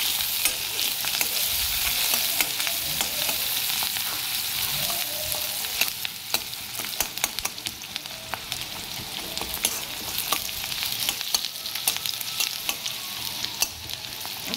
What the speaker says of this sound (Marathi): कांदा आपण मस्त लालसर होऊन द्यायचा.